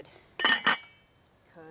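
Metal lid on a lobster boil pot at an outdoor picnic clinks twice in quick succession, a bright near rattle, followed by a faint tail of background noise.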